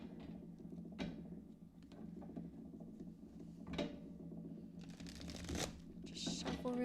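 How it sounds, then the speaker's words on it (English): Tarot cards are shuffled quickly by hand in a series of soft riffling, slapping bursts with brief pauses between them, fairly close and steady, with no talking. "Just shuffle really quickly."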